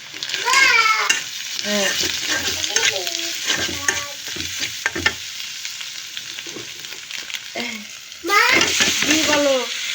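Noodles frying and being stirred in a pan, a steady sizzle with scraping stirs, while someone talks over it and a cat meows at intervals nearby.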